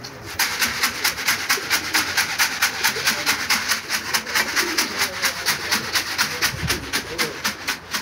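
A kula-coloured pigeon coos in a steady, rhythmic series of repeated pulses, fairly close and clear over outdoor background noise.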